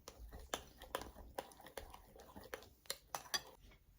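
Yogurt, lemon juice and chicken marinade being stirred in a bowl, giving quiet, irregular clinks and scrapes of a utensil against the dish, several sharp taps spread over a few seconds, soft and close.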